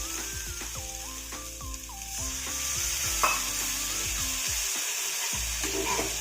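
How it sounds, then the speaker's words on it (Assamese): Spice paste for a pointed gourd gravy fries in a pan with a little water, a steady close sizzle broken by repeated scraping and stirring of a spoon or spatula against the pan. "এইখিনি এতিয়া মই ভালদৰে ভাজি ল'ম, অকণমান পানী দি পেলাই ভালদৰে ভাজি ল'ম।"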